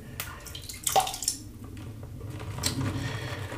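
A shaving brush works Grön Lycka Mr Charming shave soap into a lather, giving wet, squelchy swishing and bursts of bubbly churning in uneven strokes close to the microphone.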